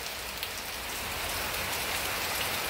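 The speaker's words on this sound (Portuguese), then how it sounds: "Começou a chover, gente." Heavy rain begins falling on a home backyard while laundry hangs out, a dense, steady hiss of drops on hard surfaces that swells slightly, with no voices.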